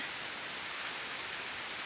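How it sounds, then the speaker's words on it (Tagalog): Heavy rain during Super Typhoon Kristine in the rural Philippines, a steady, dense broadband wash with no breaks, fairly quiet and continuous, no voices. "At ngayon malakas yung ulan"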